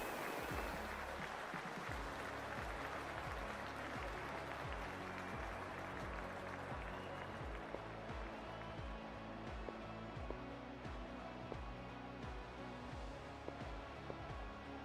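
Steady, continuous crowd applause swells around a cricket ground in the Cricket 24 video game, a dense wash of clapping throughout with no talk.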